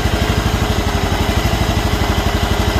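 A Kawasaki engine on a John Deere riding mower idles with a steady, fast, even throb, loud and close, with no voices.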